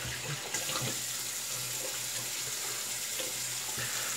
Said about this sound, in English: Rinse the brush out while we're at it.